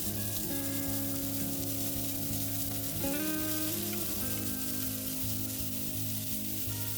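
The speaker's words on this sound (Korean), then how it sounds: "팬에 올리브 오일을 충분히 두른 후 마늘을 넣고 볶아줍니다." Garlic and onion sauté in olive oil in a pan, giving a steady, moderate sizzle that runs continuously under a tonal music bed, with no voices.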